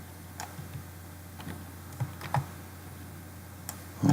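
Someone typing on a computer keyboard in short, irregular bursts of clicking keys separated by pauses, close and fairly crisp over a low steady hum, ending with a louder thump.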